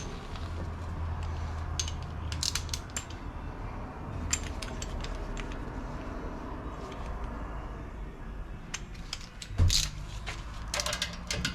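A ratchet tightens brake bolts to torque on a Ford Maverick, giving repeated quick clicking bursts with a few sharp metallic knocks over a steady background hum.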